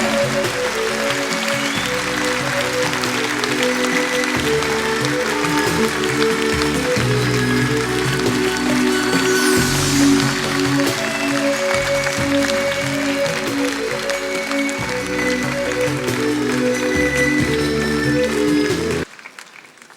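Audience applause in a Kremlin concert hall for Ingush fashion designer Zaira Getagazheva, steady sustained clapping for about nineteen seconds over loud stage music before cutting off abruptly.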